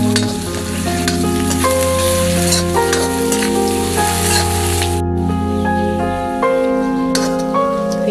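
Onions and cashews sizzling steadily in a hot pan of oil for vegetable biryani, with a bright continuous crackle, occasional stirring scrapes, and a steady tonal hum underneath.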